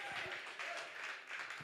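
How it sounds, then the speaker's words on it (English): A room of people at a small community gathering claps for themselves, a dense patter of applause running steadily through the moment, with faint voices mixed in beneath the clapping. "Just clap for yourselves, like everybody that's in this room right now."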